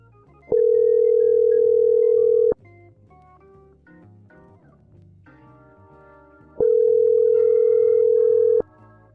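A telephone ringback tone on a returned call to someone who left a voicemail: two long steady tones about four seconds apart, loud and clear, over quiet background music.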